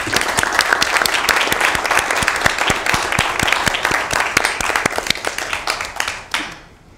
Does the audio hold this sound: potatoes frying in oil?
no